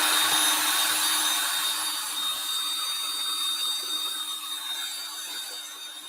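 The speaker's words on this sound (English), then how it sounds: "So now I'm going to come in here with the drill." A power drill whirs steadily while stirring casting resin for labels and playing cards, a continuous high-pitched motor drone at close range that eases slightly toward the end, with no talk.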